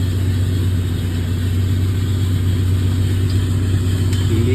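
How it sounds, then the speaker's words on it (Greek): A bale wrapper wrapping a bale in plastic film, heard as a loud, steady mechanical engine drone that holds constant with no breaks. "Με ένα κουμπάκι θα τυλίξει και θα αφήσει κάτω την μπάλα μόνο του, χωρίς να κάνουμε τίποτα."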